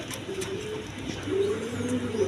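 Pigeons coo in low, soft repeated phrases, close by and steady over a faint background hum.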